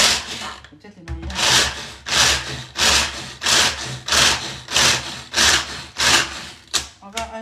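A hand-pulled manual food chopper working through ingredients for a marble cake with chocolate rocher glaze, giving about eleven evenly spaced, close whirring bursts, each a rough rasping pull, with brief gaps between them.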